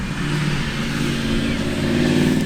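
A cammed car engine revs loudly and steadily close by, its lumpy, throaty drone holding a constant roar for the whole stretch.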